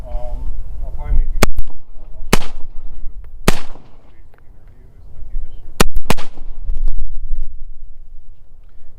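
Unsuppressed rifle shots on an outdoor range, fired with an OSS suppressor set to its unsuppressed setting: five sharp, loud cracks spread over several seconds, each with a brief ringing tail, and voices talking between them.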